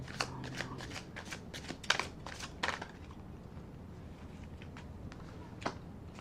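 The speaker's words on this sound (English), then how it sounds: "Let's give it another shuffle and rifle to the" A tarot deck is shuffled and riffled close up, a run of quick papery flicks and snaps that thins out into quieter handling.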